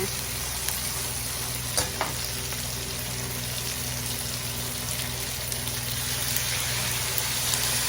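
Chicken feet sautéing in a hot pan, a dense, steady sizzle and crackle that runs loud and close the whole time, with a few faint stirring clicks and no voices.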